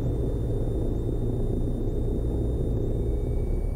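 A Cessna Skyhawk rolls for takeoff with a loud, steady engine drone and a broad rumble that holds constant throughout, heard close from inside the cabin with no talking.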